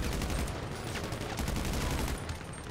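Dense, rapid gunfire fills a GTA V deathmatch, shots overlapping in a continuous loud fusillade with machine-gun bursts and no clear pauses.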